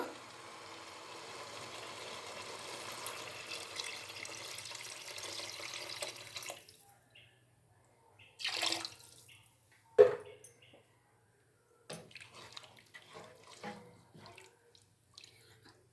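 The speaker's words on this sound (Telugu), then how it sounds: "ఎసురు పోసుకోవాలండి నేను ఎసురు అయితే కొలిచి పెట్టుకున్నాను వాటరు" Measured water poured into a biryani pot, a steady splashing pour running for several seconds, then stopping, followed by a few separate clinks and splashes and quieter kitchen handling noises, with no talk.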